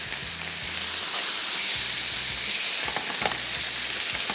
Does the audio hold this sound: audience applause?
no